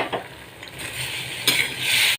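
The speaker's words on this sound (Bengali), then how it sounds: "ভেজে রাখা কাঁঠাল দানা আর আলুগুলো দিয়ে দিচ্ছি" Jackfruit seeds and potatoes fry in masala paste, a bright sizzle rising sharply as they are added and stirred, with clinks of a utensil against the pan.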